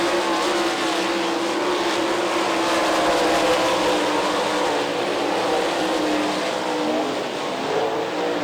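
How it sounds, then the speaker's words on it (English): Sprint cars race bumper to bumper at a Lee County dirt track, a loud, steady roar of several engines holding high revs without pause, with no voices over it. "Brett Triplett, Cameron Key, and Jamie Ball bumper to bumper"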